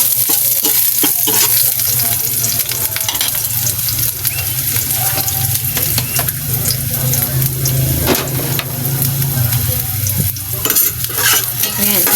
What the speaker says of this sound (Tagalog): Gigisan natin yung luya.